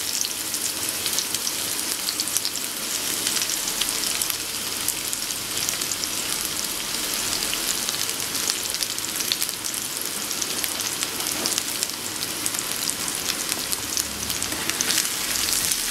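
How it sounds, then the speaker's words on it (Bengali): Onion frying in hot oil in a pan for vegetable soup, a steady loud crackling sizzle like heavy rain that holds evenly close up throughout, with no talking. "এবার তেলের মধ্যে আমি সেই পেঁয়াজটা দিয়ে দিচ্ছি।"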